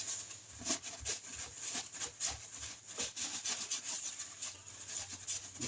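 A rag rubs over a freshly oiled rear sprocket on a Triumph Trident T160 motorcycle, giving quiet, close, rhythmic scrubbing strokes that repeat several times a second.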